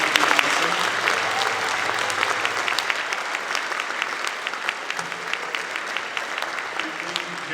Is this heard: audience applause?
yes